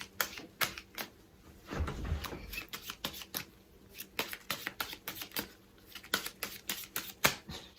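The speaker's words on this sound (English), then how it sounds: "So, this is how we shuffle cards in the Caribbean." Playing cards are shuffled Caribbean style in a quiet room. Crisp riffling bursts repeat in an uneven rhythm, with a short low thump partway through.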